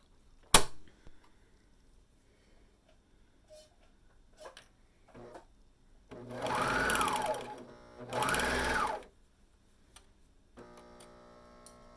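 A sewing machine stitches a pocket band onto a tee in two short runs of rapid mechanical whirring, close and clear, separated by quiet pauses with scattered clicks and handling taps.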